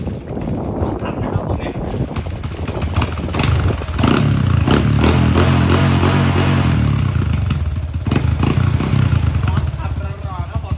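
A motorcycle fitted with a newly replaced exhaust pipe idles and then revs up loudly for several seconds before dropping back, heard up close with people talking over the engine.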